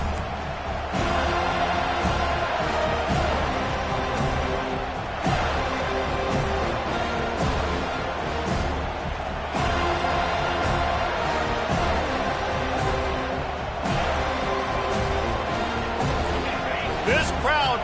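A Florida State Seminoles home football stadium crowd roars steadily at kickoff, a dense, continuous wash of noise that holds at one level throughout, with a commentator talking over it.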